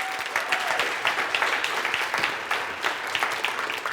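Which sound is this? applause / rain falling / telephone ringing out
applause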